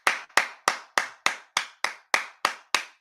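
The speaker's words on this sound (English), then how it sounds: "I got to first of all give a round of applause." Ten sharp hand claps at an even, steady pace, close by and clear against silence.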